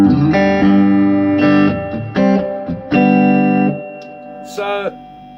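Electric guitar chords strummed through a Fender Super Sonic 22 tube amp with noisy reverb, several sustained hits ringing out and decaying, followed by a short bent note.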